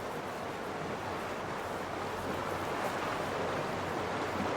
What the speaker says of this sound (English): Oh, that's a loud waterfall.